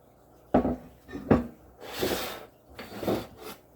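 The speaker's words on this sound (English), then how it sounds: "I am going to put them in my 3-gallon crock. This is the lid." Ceramic lid of a 3-gallon crock being handled, several close knocks and scraping rubs of ceramic against ceramic at uneven intervals, with short hissing brushes between them and no talking.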